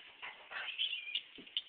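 A small dog whimpers in high, thin whines, rising and falling over a couple of seconds, fairly close but soft.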